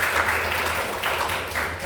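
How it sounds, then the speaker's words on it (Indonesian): A university class applauds during a lecture, giving a steady wash of clapping from a room of students that lasts nearly two seconds without talk. "Oke, tepuk tangan."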